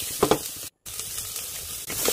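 Beans and carrots sizzling in a pan with onions while being stirred, a steady close frying hiss with a couple of scraping stirs near the start and a brief dropout in the middle.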